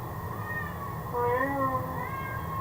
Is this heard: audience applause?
no